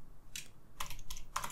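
Computer keyboard typing while entering Python code, with a handful of quick, crisp key clicks close up in an irregular rhythm, quiet and alone without talk.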